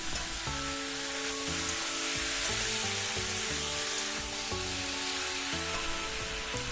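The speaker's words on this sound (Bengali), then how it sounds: "এরপর মাংসটাকে মশলার সাথে ভালো করে মেশাতে হবে।" Chicken being mixed with spices in a hot pan sizzles as a steady, even hiss, partly masked by tonal music playing over it throughout.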